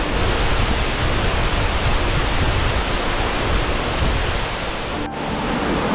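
Waterfall at Ricketts Glen, a steady loud roaring rush of falling water heard up close at the base of the falls, continuous and unbroken throughout.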